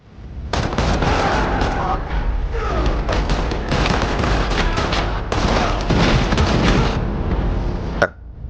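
Sustained bursts of gunfire from an action film shootout crackle loud and dense for several seconds, briefly easing before resuming, then cutting off with one sharp final impact.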